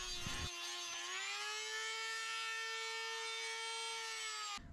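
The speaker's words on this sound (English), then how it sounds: "Then I cut out the holes to mount the speakers through" A hole being cut in a plastic panel of a 1999 Jeep Wrangler for speaker mounting, heard as a steady, loud, high-pitched power-tool whine that holds for several seconds before stopping, with no talk.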